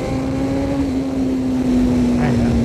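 A Honda CBR1000RR-R SP Fireblade 2020 motorcycle engine running with a steady droning tone, held at a near-constant pitch and loud throughout, with a faint rising note near the end.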